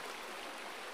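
A mountain river flows in a steady, even rush of water, faint and continuous, with no voices over it.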